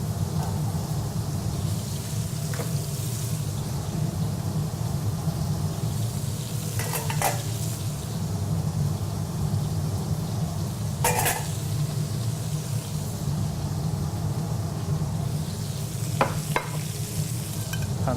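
Vegetables fry in olive oil and butter with a continuous, loud, close sizzle, joined every few seconds by the scrape and clatter of a utensil stirring the pan, no speech.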